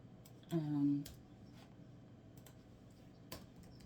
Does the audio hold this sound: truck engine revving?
no